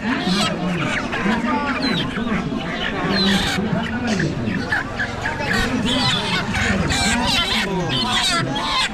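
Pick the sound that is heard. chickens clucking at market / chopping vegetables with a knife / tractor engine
chickens clucking at market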